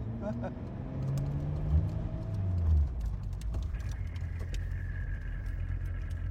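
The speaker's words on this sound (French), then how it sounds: "La chaleur, les petites explosions, l'échappement, c'est ça qui fait tout l'intérêt de la voiture" A Ferrari supercar's engine and exhaust run with a steady low rumble and a rising, then settling, throttle swell, heard from inside the car while someone talks over it.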